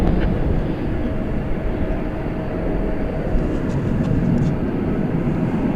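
A jet airliner departs from runway 18 left at DFW Airport, a steady broadband engine roar filling the scene at a fairly constant loudness with no talk over it.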